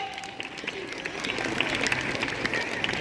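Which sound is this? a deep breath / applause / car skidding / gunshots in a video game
applause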